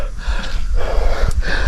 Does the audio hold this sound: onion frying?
no